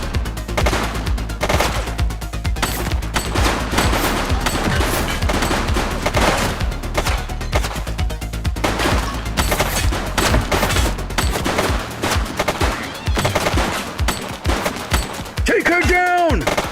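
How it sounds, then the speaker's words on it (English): Gunfire in the police video game The Precinct: loud, nearly continuous bursts of rapid automatic shots and single cracks rattle on throughout, with a brief voice near the end. "He's shooting!"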